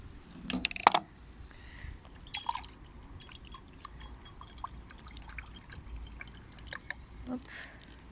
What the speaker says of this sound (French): on va le rincer